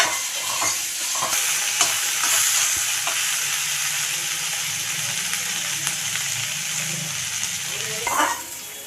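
Chopped onions and potatoes sizzle and fry in oil in a pan for a spicy bhola fish curry, a steady hiss broken by scraping stirs and a louder clatter near the end.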